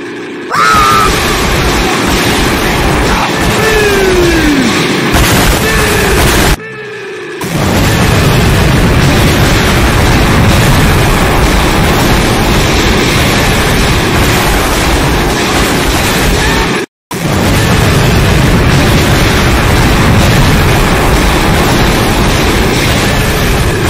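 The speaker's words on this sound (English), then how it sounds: "Explosion noises and sounds." Loud explosion sound effects played back to back, a dense sustained booming roar with crackling bursts, broken by two brief moments of silence.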